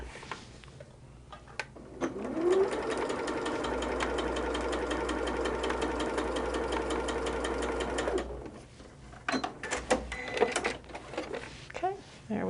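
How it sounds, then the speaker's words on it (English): Sewing machine joining quilt border strips, a close, steady rapid chatter that runs for several seconds before stopping, followed by light handling clicks. "we're going to sew this together just the way we did before"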